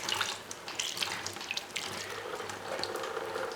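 Pumped water runs from a hands-free bucket camp sink at a campsite as a steady splashing stream with a few brighter spatters, fairly close and continuous for a few seconds.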